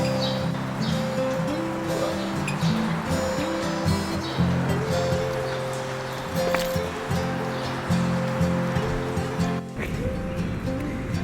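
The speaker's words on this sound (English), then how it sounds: "watch the rain kind of just fall into the river" Heavy rain falls steadily into a river on a wet hike in Philadelphia, a dense, continuous wash of water noise that stays constant throughout.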